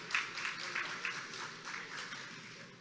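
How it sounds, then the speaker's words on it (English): Audience applause at a gala dinner, a steady wash of clapping from a seated crowd that holds at moderate level for about three seconds, with faint voices mixed in. "That deserves an applause for sure."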